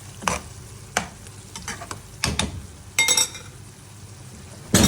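Chicken masala pasta being stirred in a pan, with close, irregular scraping and clinking strokes of a utensil over a faint sizzle, including a brief rattling burst near the end.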